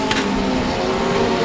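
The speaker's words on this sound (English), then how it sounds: "it'll be another drag race down the back straight for Greg Joss and Cody Roberts" Legend race cars drag race down the back straight, loud sustained engine roar with a steady droning pitch and a brief hiss early on, close and continuous.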